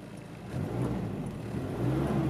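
A healthy 1995 Isuzu Bighorn turbo diesel 4WD engine runs steadily with a low, even rumble and a slight rise partway through, heard up close with no talk.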